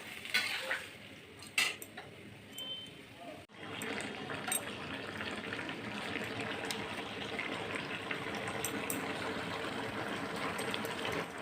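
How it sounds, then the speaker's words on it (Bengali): Boiled taro pieces being stirred and fried down in a pan of curry, with a few clinks of a utensil at first, then a dense, steady sizzling bubble that carries on evenly. "এটাকে আমি ভালো করে কষিয়ে কষিয়ে জলটা কমিয়ে দেব।"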